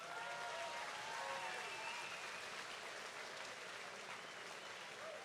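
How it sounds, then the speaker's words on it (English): A crowd at a charity fight event applauds for introduced dignitaries, a steady wash of clapping that sounds distant and fairly quiet, holding evenly and easing slightly toward the close. "So let's give them a round of applause."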